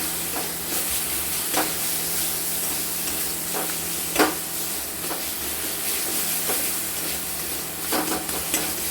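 A Bengali spice paste for banana-flower chops fries in a pan with a constant bright sizzle and hiss, punctuated by periodic scrapes of a spatula stirring it.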